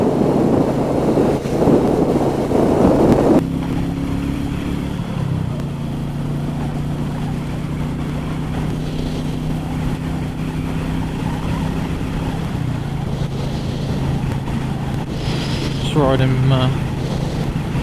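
A Royal Enfield Meteor 350 motorcycle rides along winter country back roads with a steady low engine drone under constant buffeting wind noise, and a rider talks throughout.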